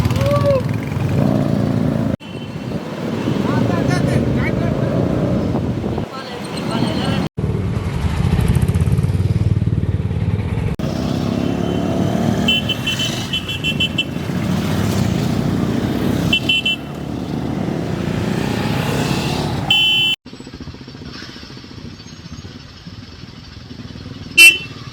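Group motorcycle ride setting off on a Hyderabad weekend anti-drug awareness run: many engines rumbling and revving nearby, repeated horn toots and honks, and voices in the crowd around them.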